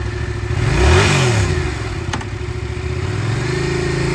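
A used 2015 Yamaha FZ-07 midweight sport twin motorcycle engine revs once from idle, rising sharply and falling back, then holds a loud, close, throbbing idle with no talk.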